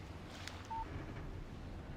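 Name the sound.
phone text message alert in video game Alan Wake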